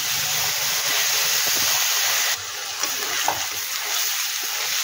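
Sliced onions sizzle in a pan with a little salt, a steady broad hiss of frying that dips briefly partway through, with faint scraping stirs and no talk.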